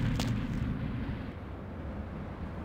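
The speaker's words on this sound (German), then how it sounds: "Was ist das für Explosion eigentlich?" A deep, rolling explosion rumble from the 2004 video game Vampire: The Masquerade - Bloodlines, with a sharp burst at the start that settles into a steady, loud low roar lasting several seconds.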